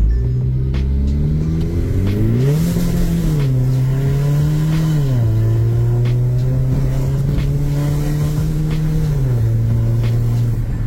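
A tuned 2.0 TDI common-rail VW Golf GTD Mk6 diesel with an upgraded turbo accelerates hard, its loud, close engine note climbing steadily through the revs with a couple of drops at gear shifts, and no talking.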